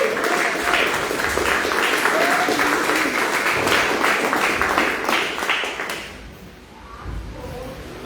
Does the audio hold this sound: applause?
yes